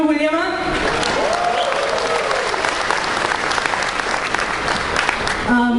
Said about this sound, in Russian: ему будет приятно, если мы еще раз поприветствуем его аплодисментами